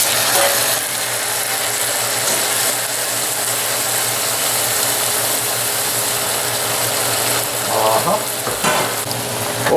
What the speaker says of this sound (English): I'm going to deglaze with all this awesome liquid I've got here